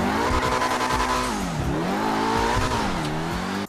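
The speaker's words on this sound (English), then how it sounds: "the rev limiter on this car just sounds absolutely crazy and just so fast" Super car in GTA 5 bouncing off its rev limiter, a loud, continuous high-pitched engine wail that rises and falls in rapid repeated cycles with harsh stuttering pulses, alone and close.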